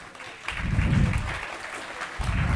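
A class of students claps for a classmate in a maths lesson, a short burst of broadband applause that swells, dips, then picks up again near the end.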